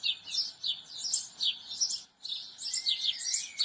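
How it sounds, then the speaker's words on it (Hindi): Several birds chirp and tweet in quick, high-pitched bursts, fairly close, with a short pause midway, then more overlapping calls; no talking. "चिड़ियों की आवाज़ सुनिए"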